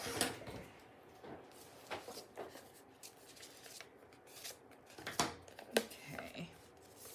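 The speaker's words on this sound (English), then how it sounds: "Scissors." Scissors cutting paper at a craft table: a few scattered, crisp snips and rustles, fairly quiet and close, with pauses between cuts.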